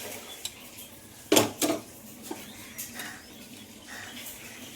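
Lid of a pressure cooker opened after cooking brinjal, potato and tomato curry, a sharp metallic clank and rattle followed by a few lighter knocks and scrapes, close by against a quiet kitchen background.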